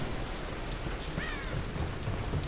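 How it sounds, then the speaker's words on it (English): Steady, loud rainfall in a Tomb Raider storm, a dense continuous hiss with low rumbling thunder underneath throughout. "This storm is really quite bad now."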